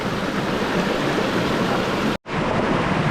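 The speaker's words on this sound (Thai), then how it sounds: "นี่เลยครับผมน้ำตกครับ" Water pours steadily at Khlong Lan waterfall in February, a dense, close, even roar of falling water broken only by a split-second gap near the end.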